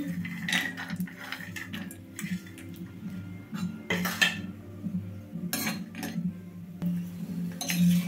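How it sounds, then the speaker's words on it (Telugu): Cashews and almonds fry in ghee in a pan while a spoon scrapes and clinks against the metal in irregular strokes over a low, steady background hum. "ఫస్ట్ జీడిపప్పు, బాదం పప్పుని అయితే వేయించుకుందామండి."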